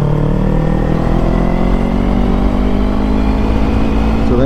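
A Kawasaki Z900 motorcycle engine runs loud and close with a steady, throaty drone. Its pitch climbs gradually through the clip and rises sharply at the end as the rider revs it.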